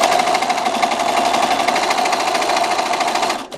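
A sewing machine runs steadily and loud at close range while stitching binding onto a quilt, its rapid needle rhythm continuous before stopping abruptly at the end.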